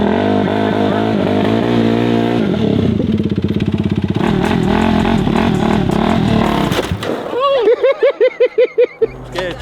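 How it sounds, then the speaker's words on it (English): Four-wheeler ATV engine revs loud and close as the rider pops the clutch and takes off in second gear, rising and falling in pitch, with people shouting and cheering over the motor. "When you pop the clutch, just hit the gas."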